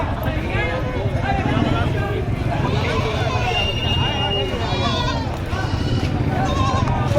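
Goats bleating amid a busy livestock auction of cattle, goats and water buffalo in Padre Garcia, Batangas, with repeated animal calls under constant crowd chatter and nearby bargaining voices.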